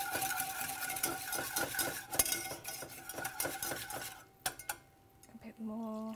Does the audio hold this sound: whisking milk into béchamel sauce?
yes